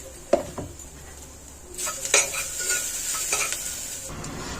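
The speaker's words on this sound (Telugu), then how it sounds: "ఇప్పుడు మనకు పచ్చిమిర్చి ఎండు కొబ్బరి పేస్ట్ కాస్త ఫ్రై అయ్యే వరకు ఫ్రై చేసుకుందాం" Green chili and dry coconut paste fry in a pan for bottle gourd curry, with a few sharp utensil clinks and scrapes over a soft, steady sizzle that builds midway.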